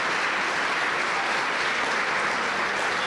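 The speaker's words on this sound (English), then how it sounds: "a special round of applause for our panelists" Sustained applause from a dinner audience at a STEM foundation event, thanking the panel. It forms an even, full wash of many hands clapping at a constant level with no break.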